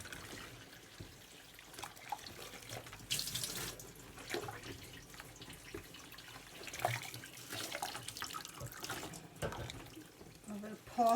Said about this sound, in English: I'm going to gently lift the wool out now.